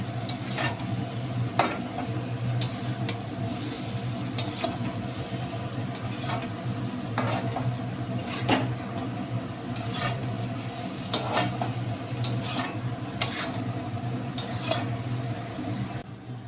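Spices and fried potatoes stirred and sizzling in a pan for prawn curry, a steady frying hiss with scattered scraping spoon strokes and a low hum running underneath, no voices.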